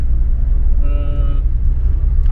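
Citroën BX car with a 72 hp engine running, a steady low rumble throughout with a brief higher tonal whine midway, no voices.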